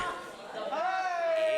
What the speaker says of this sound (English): And a crowd telling him he sucks.